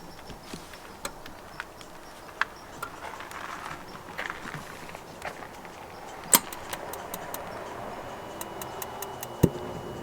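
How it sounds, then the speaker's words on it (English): A camper fridge ticks as it starts up at a northern Canadian campsite, with a steady run of faint, evenly spaced clicks over quiet outdoor background. "Hear the ticking?"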